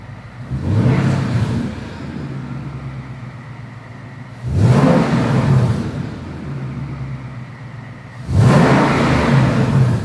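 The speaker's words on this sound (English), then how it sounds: "Let's rev it." A Ford Coyote V8 swapped into an F100 truck revs three times, each blip rising sharply then settling back to a steady idle, loud and close with no talking.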